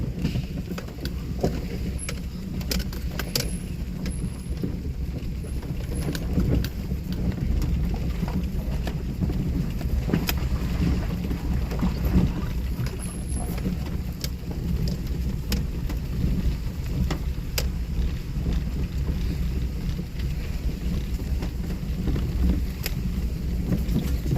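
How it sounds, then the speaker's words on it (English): Steady rain patters against a car windshield under a constant low rumble, with occasional sharper drops and taps throughout. "I might turn the wipers on. The rain's getting on the windshield."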